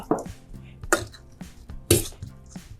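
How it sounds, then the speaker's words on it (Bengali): Lightly boiled winter peas are mashed on a plate: three distinct clinking taps of a utensil against the dish, spaced about a second apart, with soft squishy scraping between them. "এই মটরটাকে এখন আমি ম্যাশ করে নেব"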